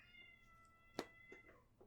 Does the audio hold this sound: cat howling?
yes